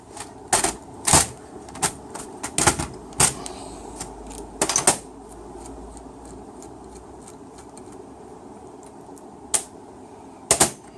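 Bolts come off the solenoid block of a Nissan RE4F04B four-speed automatic transmission. Short, sharp clicking and ratcheting bursts arrive irregularly, with quieter gaps between the loosening turns.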